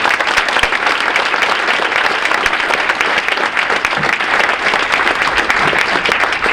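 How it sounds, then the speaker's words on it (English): Loud, sustained applause from a crowd at a winter varsity sports awards ceremony, steady dense clapping filling the hall for several seconds with no pauses. "So how about a round of applause for our AMSA coaches?"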